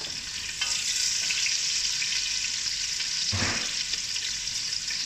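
Ginger, garlic, onion and long green chili sauté in hot oil with a loud, steady close-up sizzle, broken once by a brief scrape of stirring.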